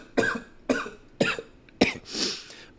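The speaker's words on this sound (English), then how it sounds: "I'm sick and I have a cough." Four harsh coughs from a sick person, close and loud, spaced roughly half a second apart, followed by a breathy exhale.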